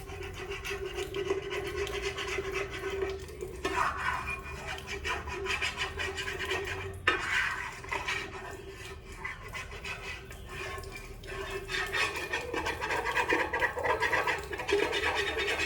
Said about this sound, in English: Try to get as much of the gook out first.